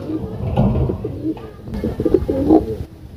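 Pigeons in a loft coo repeatedly in low, rolling calls, several birds overlapping at close range with a faint rustle of the loft behind them.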